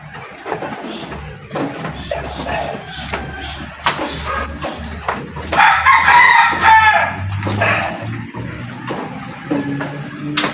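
A Rhode Island Red rooster crows loudly over ongoing clucking and farmyard chatter of chickens, with a long crow rising in the middle.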